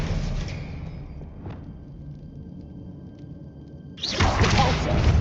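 An Expelliarmus spell is cast in Hogwarts Legacy, a muffled thud and faint whoosh early on, then a sudden loud burst of noise toward the end over a low background hum.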